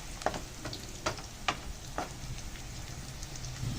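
Fish paksiw sautéed Kapampangan style in a pan, giving a steady, faint sizzle with a few sharp pops and crackles scattered through it and no voices.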